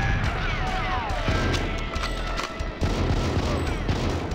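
GoldenEye 007 on Nintendo 64 delivers a loud, steady barrage of gunfire, repeated shots and booming impacts running throughout without pause, and a voice faintly mixed beneath the shooting.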